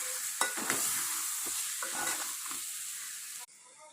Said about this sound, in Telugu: పచ్చిమిరపకాయలు, చికెన్ మసాలా, ఒకసారి కలపండి.